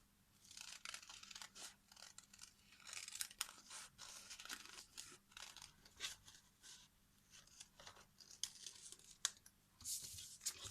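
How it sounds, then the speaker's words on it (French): Scissors cutting through fabric along a traced pattern for a sewn sanitary pad, a steady series of soft crunching snips and rustles close by and fairly quiet, with brief gaps, no voices. "Je n'ai donc plus qu'à couper."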